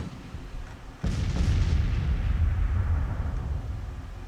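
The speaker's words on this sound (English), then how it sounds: "my few guns are firing" In the Grand Tactician Civil War strategy game, a James rifled gun booms once with a sudden loud blast, and the low rumble rolls on and slowly fades into a long echoing tail.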